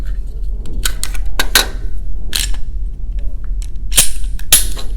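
Metallic clacks and snaps from Glock 19 and Glock 43 pistols being safety checked, slides racked in a few sharp separate bursts close by, with quiet gaps between.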